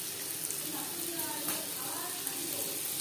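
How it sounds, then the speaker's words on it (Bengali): Three chopped onions frying in oil in a kadai just used for frying fish give a soft, steady sizzle and hiss, faint and even throughout. "মাছ ভেজে নেওয়া কড়াইতে আবারও তেল দিয়েছি। দিয়ে দেব পেঁয়াজ কুচি।"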